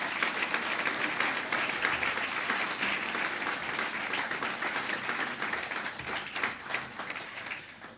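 An audience at a 2014 municipal campaign meeting in Mazamet applauds the candidate's team, with dense, steady clapping that fills the whole stretch at an even level and tapers slightly near the end.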